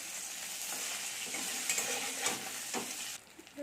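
Spoon stirring sugar into a pan of boiled eggplant with yogurt, a scraping, gently sizzling mix heard up close with a few sharper clinks, then dropping quieter near the end.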